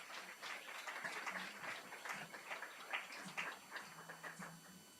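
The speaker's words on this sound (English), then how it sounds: "Let's give her a round of applause." Faint, steady applause from an audience at a women's health summit, a dense patter of many hands sounding somewhat distant and continuing throughout.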